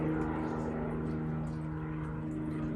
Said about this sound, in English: Hopefully you don't hear that airplane too loud right now